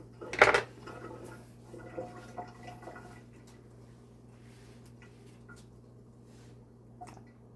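Coconut milk poured into a cooking pot for Jamaican coconut gizzada: a brief clatter of the container against the pot, then a soft liquid glug and trickle that fades into quiet.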